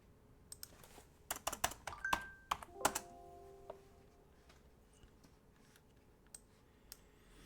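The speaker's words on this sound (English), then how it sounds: "So when I'm typing out," Computer keyboard being typed on at a desk, a quick flurry of faint clicks and taps bunched in the first half, then a few scattered keystrokes trailing off.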